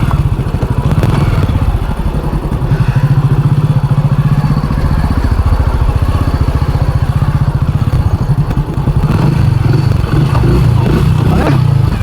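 A motorcycle engine chugs loudly at close range with a rapid, steady thumping beat for about twelve seconds, with a slight dip in the middle.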